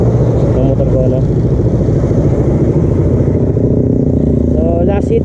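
A Suzuki Raider R150 Fi motorcycle runs at speed during a 400-meter run, its engine a loud, continuous buzzing drone that holds steady for several seconds, with faint rising pitch near the end.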